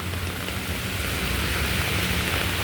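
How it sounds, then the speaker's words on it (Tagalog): Heavy rain pours in a loud, steady, broadband rush with no break, close by and unaccompanied by voices. "Kahit na ulan."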